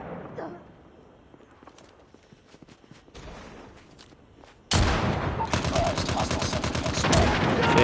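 Gunfire in a shooter video game: scattered single shots and footsteps at first, then a sudden loud burst of sustained rapid automatic fire that carries on to the end.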